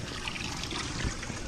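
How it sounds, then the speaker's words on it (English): Water trickling and gurgling into a swimming pool skimmer, a steady close splashing flow with no break, moderately loud and alone. "So the water's flowing into the skimmer pretty well."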